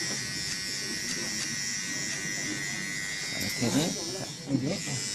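A barber's electric clipper buzzes steadily close by, trimming a short military-style cut, with a person speaking over the motor toward the end.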